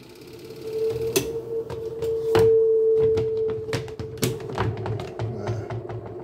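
Manual twin-tub washing machine's spin dryer running with a steady motor hum and rotating whine, punctuated by repeated close clicks and knocks; its brake is faulty, so the drum keeps spinning.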